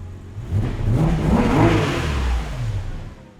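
A 2011 Porsche 911 GT3 engine revs up in a steady rising and falling roar that swells and eases over a few seconds, loud and close, with no voices.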